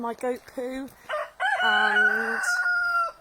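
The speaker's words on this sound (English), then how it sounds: "He's our only rooster." A rooster on a small backyard flock crows loudly and close by, one long drawn-out call, preceded by short clucks while someone talks.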